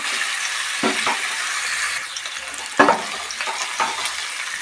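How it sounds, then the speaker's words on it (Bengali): Eggplant and tomato sizzle in a pan with onion while being stirred, a constant close frying hiss broken by several scraping stirs. "তো এগুলো আমরা ভালো করে ভেজে নেব।"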